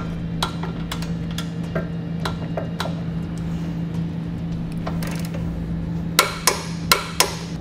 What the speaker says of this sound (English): I'm going to torque it all down to the specified amount in the